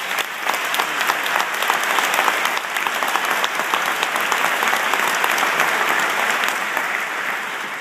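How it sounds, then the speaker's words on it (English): Sustained applause from a large commencement audience at a 2013 school graduation, a dense, even roar of many hands clapping that holds steady throughout. "Please give them a round of applause"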